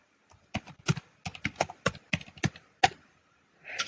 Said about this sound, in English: so I need to type that again